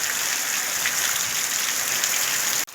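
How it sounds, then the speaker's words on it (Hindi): Heavy rain pouring down at an outdoor vegetable market, a dense steady hiss filling the space, loud and continuous before cutting off abruptly near the end. "दोस्तों बारिश हो गई है बहुत तेज शुरू"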